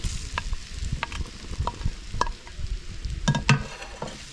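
Sliced ripe nendran plantain sizzles steadily in ghee, with scattered sharp clicks and scrapes from a spoon stirring the pan, close and fairly loud, no voices.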